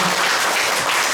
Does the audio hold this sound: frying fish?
no